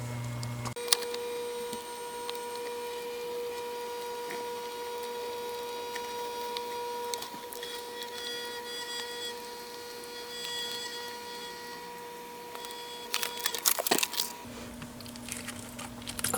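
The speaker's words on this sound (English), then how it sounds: "now just taking the Glaminator and just running it, pushing it right in there, it'll grab a hold of it and just start sucking it through" A Xyron Glaminator machine draws chipboard through for foiling, giving off a steady, quiet motor hum with a constant whine. A brief burst of clattering and rattling comes near the end.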